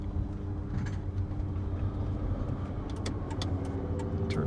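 A Hino electric truck with a SEA Electric drivetrain pulls out onto a paved road, a steady low rolling hum of tires and motor with a faint whine, continuous and fairly close.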